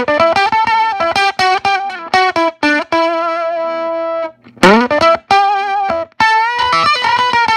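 An electric guitar on the neck pickup with the tone rolled down runs through an octave-up effect, playing quick plucked phrases and sustained bent notes, loud and close with brief gaps between runs.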